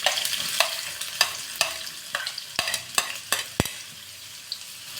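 Chopped onion frying in hot coconut oil, with a soft sizzle and a regular series of sharp spatula scrapes and taps against the pan, close up with no talk.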